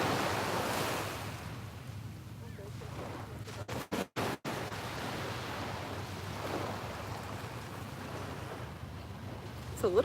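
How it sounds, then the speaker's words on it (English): Ocean waves wash steadily onto a beach on a gloomy but partly sunny morning, a continuous surf roar with wind buffeting the microphone, briefly cut out for a few seconds partway through. "I'll show you the beach"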